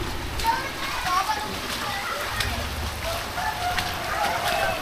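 Swift seawater floods through a settlement at Muara Angke, a loud continuous rush and slosh of moving water, with voices talking and a rooster crowing in the background.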